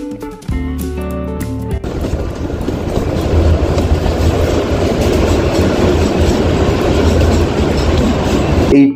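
The Kalka–Shimla toy train runs along its mountain track near Kandaghat station: after a brief musical opening, a loud, steady rumble with rhythmic wheel clatter builds and fills the rest of the scene.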